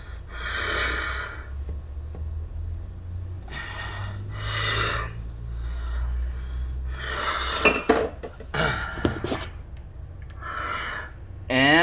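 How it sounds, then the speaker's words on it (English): A kitchen knife slices French toast into sticks on a cutting board. Soft scraping and rubbing cuts repeat in bursts, ending in sharper clatters of the blade against the board. "just get your knife and kind of run them through that"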